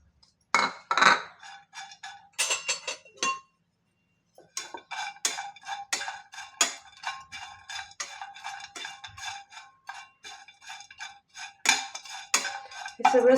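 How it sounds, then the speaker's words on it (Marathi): Coconut dry-roasting in a pan for sesame modak, heard as a run of close, bright clinks and scrapes from a spatula against the metal, with a brief pause early on and no talking. "आता खोबरं थोडंसं भाजून घ्यायचे।"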